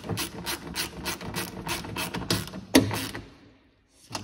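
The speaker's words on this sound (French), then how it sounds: "Donc on serre les vis." Screws are tightened on a Volkswagen Polo 5 window regulator with a ratcheting tool, giving a series of quick clicking, ratchety bursts, one sharp louder knock near the end, then a brief pause before a final click.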